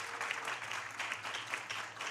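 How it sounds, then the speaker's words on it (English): Audience applause at a USA Powerlifting New York State Championships session, honoring the spotters and loaders; a steady wash of clapping from a crowd in a large venue, fairly faint and even throughout. "Give these guys a round of applause, the blue shirts."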